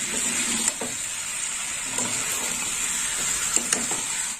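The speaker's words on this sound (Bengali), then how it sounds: "সবজিগুলো দিয়ে কষে নেব।" Pre-fried ridge gourd, potato and pointed gourd being sautéed in a pan, a dense close sizzle with a few knocks and scrapes of stirring, no one speaking.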